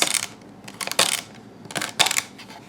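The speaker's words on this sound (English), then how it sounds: "Just dice it up into small bite-sized pieces." Knife dicing green onions and celery on a cutting board, a few sharp, close chopping strikes in loose bursts with short pauses between them.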